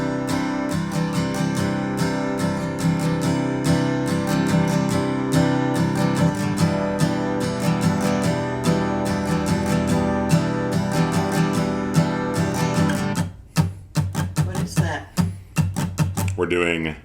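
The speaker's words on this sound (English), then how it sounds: "We're going to do 1 strum pattern kind of for the strumming version of this song." An acoustic guitar strums a steady down-up pattern for a song, with dense, rhythmic chords ringing close. Near the end the strumming breaks into choppier, muted strokes.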